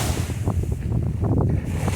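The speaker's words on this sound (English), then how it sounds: "You see where the water is hitting and coming up and wetting me?" Sea waves strike close by and throw spray up onto someone standing at the water's edge. The wash and splash are loud and continuous, with heavy wind noise on the microphone.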